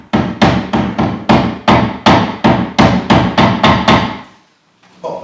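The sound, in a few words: tapping glued wood pieces into a door frame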